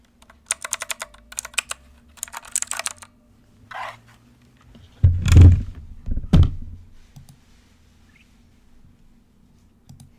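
Clacky keystrokes on a sticky mechanical keyboard with a spilled drink on it come in short bursts and pauses, with a couple of heavier thunking presses, close up in an otherwise quiet room.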